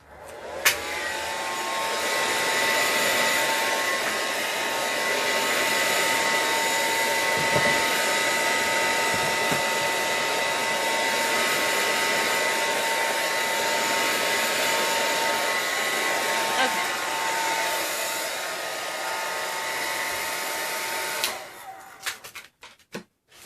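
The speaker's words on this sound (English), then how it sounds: "Okay, so I'm going to do a quick drying now and dry this." A hair dryer blows on coloring work on paper, a loud, steady whirring hum with a faint whine that runs unbroken for about twenty seconds, then clicks off, leaving brief rustles.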